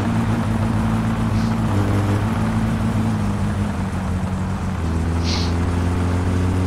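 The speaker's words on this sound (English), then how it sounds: "So that means our exhaust is back on." Steady car engine idle with the exhaust refitted, from the video game My Summer Car: a continuous low rumble with a slight shift in pitch partway through and no talk.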